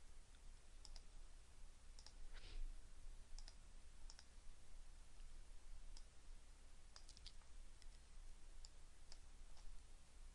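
Quiet, sharp mouse clicks land one at a time and in small clusters while a user works in Flash Builder's design mode, spaced irregularly over a low, steady background hiss.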